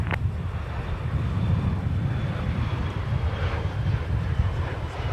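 An airliner touching down on runway 12 Right at Minneapolis–St. Paul Airport, a steady broad roar of engine and rushing air with wind buffeting the microphone, continuous and fairly loud throughout, no voices.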